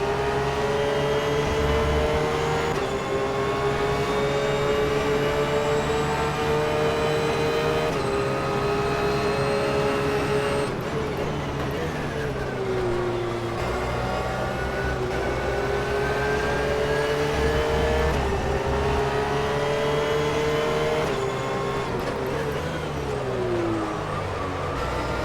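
A Porsche 911 GT3 race car on the Silverstone circuit in rFactor 2 sounds loud and continuous, its engine note sweeping up through the gears and dropping on shifts and braking, with no one speaking.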